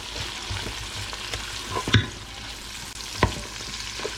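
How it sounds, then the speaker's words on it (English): Food stirred in a hot pan with a spoon: a steady low sizzle broken by two sharp, close scrapes against the pan, with no voices. "Give it a good stir."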